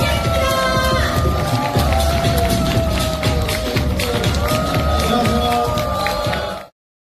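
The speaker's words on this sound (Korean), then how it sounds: "모두 함께 일어나서 뜨거운 함성과 박수로 모시겠습니다" A standing crowd cheers and claps loudly to welcome a chairwoman onto the stage at a company event, with shouts and whoops over continuous clapping and a music bed underneath, cutting off abruptly near the end.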